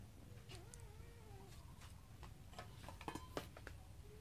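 A cat meows faintly a couple of times at home while pork is grilled for a meal. The short, wavering cries come early and are followed by soft clicks and ticks in a quiet room.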